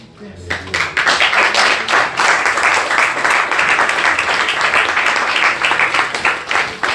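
A church congregation applauds loudly and close by, a dense, sustained burst of clapping that swells in within the first second and holds steady to the end.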